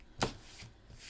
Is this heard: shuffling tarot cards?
yes